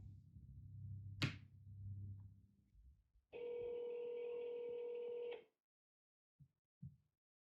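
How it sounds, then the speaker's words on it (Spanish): A phone call placed to a politician's number in a Salvadoran news report: a short dial burst, then a steady electronic ringing tone for about two seconds, followed by a couple of faint clicks, with no talk. "Voy a llamar ahora mismo al teléfono de Carlos Marroquín"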